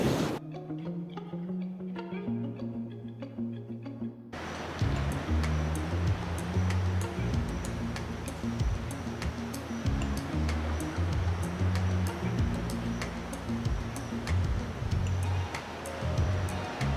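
Waves of an incoming tide wash against a rainforest shore in a continuous broad rush of surf, steady and fairly close, after a quieter opening few seconds.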